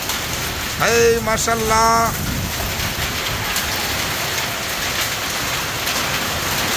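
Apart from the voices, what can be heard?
heavy rain during thunderstorm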